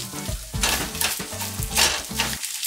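Spinach leaves and shallot sizzle and crackle in a hot frying pan, a close, bright hiss with short bursts of stirring and clinking utensils, while a background melody plays underneath.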